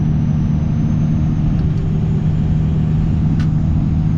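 Steady deep drone of a Cummins 24V diesel pickup's exhaust and homemade intake while cruising, a loud constant rumble without breaks or talk.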